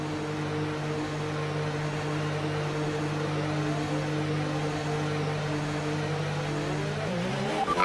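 In a racing video game, a race car pulls out of the pits, its engine holding a steady, close drone that shifts pitch near the end as it accelerates.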